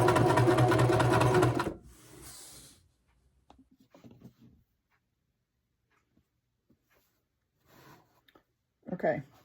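A sewing machine stitches quilt pieces together for a wonky log cabin quilt, running loud and steady for about two seconds before stopping, followed by quiet handling noises and brief speech near the end.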